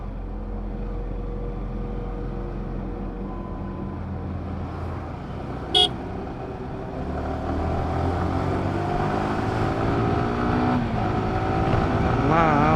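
Steady engine and tyre drone of busy road traffic on a two-lane road on the ride to Yercaud, vehicles passing close and continuously, with wind buffeting and a brief sharp click midway.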